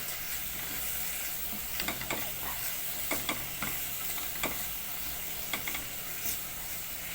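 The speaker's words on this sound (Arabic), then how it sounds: "وهنشوح البصلة كده لغاية ما ايه تصفر معانا بس وتاخد لون بسيط" Chopped onion sautéing in a pan, a steady soft sizzle with scattered scraping clicks of a spoon stirring, close and alone with no talk.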